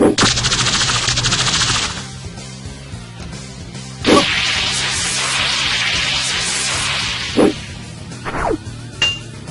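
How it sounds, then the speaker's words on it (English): Iron Man's unibeam chest blast from a fictional battle, a loud, bright energy burst that sustains and crackles, followed by a few sharp zaps and impacts. "Unibeam!"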